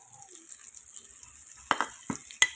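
Anchovy paste (bagoong dilis) sautéing in a pan gives off a steady soft sizzle, with a few louder bursts of stirring or spattering near the end.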